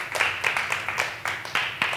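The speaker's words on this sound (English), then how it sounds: "Give her a round of applause" A small audience claps for a participant, a brief burst of loose, uneven applause with clustered hand claps in a room.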